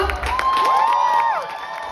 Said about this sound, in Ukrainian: Давайте поаплодуємо ще трохи більше.